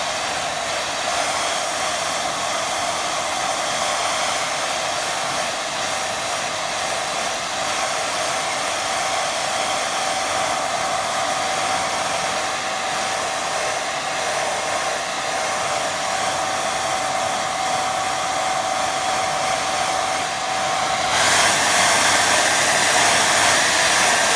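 A hair dryer blows across a freshly painted watercolour, giving a loud, steady whirring rush with a constant motor whine that runs unbroken for over twenty seconds, then shifts slightly in tone near the end.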